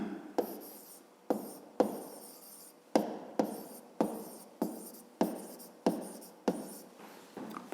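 A pen writing out a fifth-grade math solution by hand, close and quiet, with a dozen crisp strokes starting abruptly in an even rhythm, each fading before the next, no talking.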